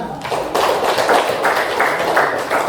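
A classroom of students clapping after a group presentation, a steady patter of hands of moderate loudness lasting a few seconds.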